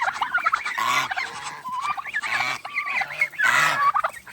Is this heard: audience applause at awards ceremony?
no